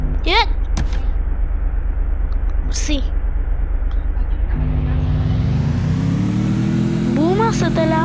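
A car driven in the video game Free Fire, its engine humming low and steady, then revving and rising in pitch midway, under a talking voice throughout.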